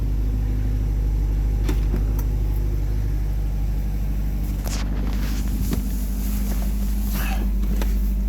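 A 2022 Corvette C8 engine idles just after starting, a steady deep rumble heard from inside the car with a few faint clicks and rustles over it.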